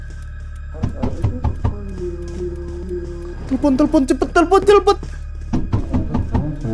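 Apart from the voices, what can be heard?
pounding knocks in Roblox video game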